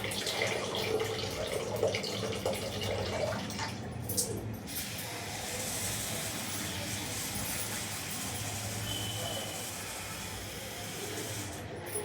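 Water pours steadily from a tap over sorghum grains set to soak, a constant hissing rush with a brief splashy change partway through, close and uninterrupted.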